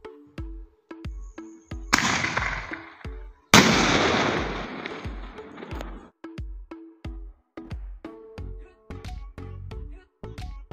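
Mercury brand Crazy Spider sky shot fireworks display: a quick series of sharp pops runs throughout, with two big bursts that crackle and fizz for a few seconds each, fairly close, and no talk.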